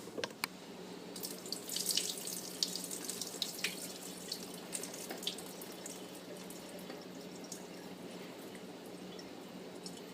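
Canned green beans draining in a kitchen sink, the liquid running and splashing as a steady close trickle with a few brighter spatters, no voices.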